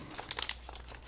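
Thin glass or plastic screen protector packaging for a Lenovo Legion Tab Gen 3 being handled, a brief close crinkle of film and paper with a few sharper rustles.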